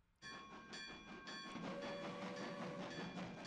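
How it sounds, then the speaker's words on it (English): A train in a One Piece anime episode rolls by with a sudden onset of loud rumbling and a bright, sustained horn-like whistle tone above it, steady and close throughout. "Why is there a train on water?"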